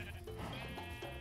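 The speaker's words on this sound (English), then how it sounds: "Oh my God, it's a pink sheep." A pink sheep in the Minecraft video game bleats in a wavering, nasal cry, heard over a dense bed of game music and background noise at moderate loudness.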